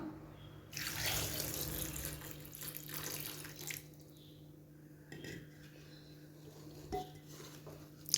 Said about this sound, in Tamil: இப்போ நெல்லிக்காயை வந்து ரெண்டு தண்ணி நல்லா வாஷ் பண்ணி எடுத்துக்கலாம்